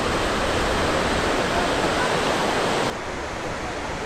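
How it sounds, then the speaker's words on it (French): A dense, steady wash of broadband noise of small ocean waves rolling in at Hossegor, loud and continuous, dropping slightly in level near the end. "Il y a des bonnes petites vagues."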